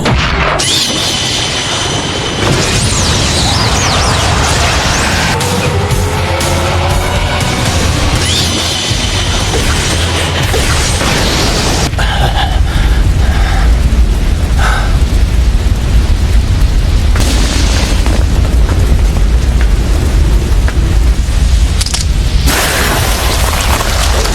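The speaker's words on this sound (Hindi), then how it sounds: "fire style fireball jutsu" A fire style fireball jutsu explosion from the Naruto Shippuden anime fight between Sasuke and Itachi: a loud, sustained roaring blast with deep rumbling and crackling bursts running throughout, building and surging in waves.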